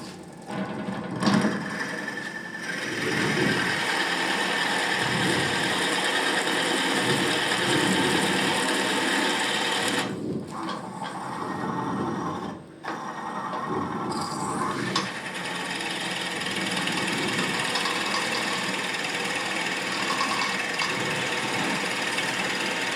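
A wood lathe spins an off-centre vessel at about 500 RPM, giving a steady, loud mechanical whir with a few brief dips and knocks as the uneven piece turns.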